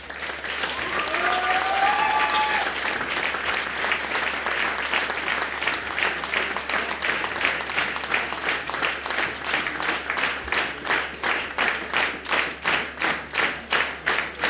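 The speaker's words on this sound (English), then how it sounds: "on peut les applaudir" Audience at a 2014 dance gala in Jandrenouille applauds the dancers, a dense, sustained crowd ovation that later turns into steady rhythmic clapping in unison, with faint voices underneath.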